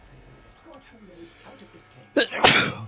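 A character in the Warframe game sneezes twice in quick succession near the end, loud and close, right after a line of dialogue.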